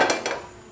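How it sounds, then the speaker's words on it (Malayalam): A metal pan set down on a stove in a kitchen making chilli gobi, two quick clanks close by, then fading. "പാൻ വെച്ച്"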